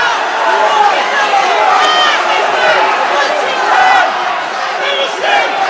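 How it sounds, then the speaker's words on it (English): An arena crowd at an MMA fight roars steadily, loud continuous cheering and shouting with overlapping voices and no break. "The crowd's going wild right now."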